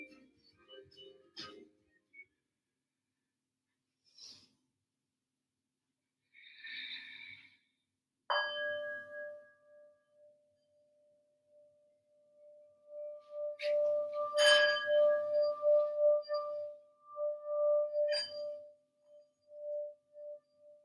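A yoga class's sound bell is struck, giving a bright ring that sustains and slowly fades, followed by a second strike that rings out again, heard quietly amid soft breathing and small movement noises.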